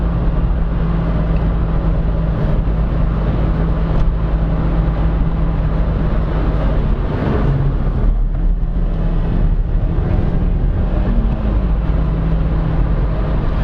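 Daihatsu Cuore Avanzato TR-XX small hatchback engine pulling hard in fourth gear toward 60 mph and nearly 5,000 rpm, a steady loud drone with road roar on a country road, no talking.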